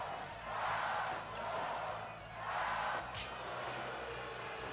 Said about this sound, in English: What's the crowd chanting?